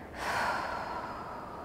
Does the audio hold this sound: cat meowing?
no